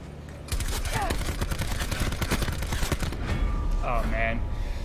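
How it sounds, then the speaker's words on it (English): Rapid gunfire bursts from the video game Call of Duty Blackout, loud and sustained through most of the stretch, with voices talking over the shooting. "A little bit of wild shooting there"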